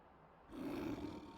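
A Frost Giant character from a Lego Marvel superhero video game lets out a short, deep roar that swells in suddenly after a quiet moment and holds steady, loud and close, with no talking.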